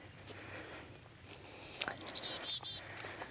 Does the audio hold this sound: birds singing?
yes